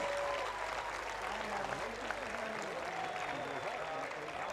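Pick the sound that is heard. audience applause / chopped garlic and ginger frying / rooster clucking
audience applause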